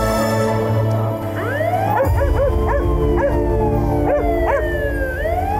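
A dog in the film 777 Charlie barks loudly in a rapid series of sharp, rising yelps, close and clear, with a howling, siren-like tone around them.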